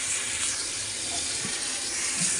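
Tap water runs steadily as garmar roots are washed for pickle, a continuous close rushing splash with no break and no talking.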